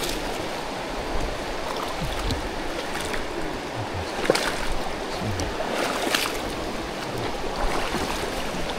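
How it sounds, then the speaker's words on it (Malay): Steady rushing of river water flowing over slippery rocks during a jungle river crossing on the Gunung Tahan trek to a four-step waterfall, a continuous broadband wash with a few brief splashes, close and fairly even in level. "jom sekarang kita nak melintasi sungai lagi"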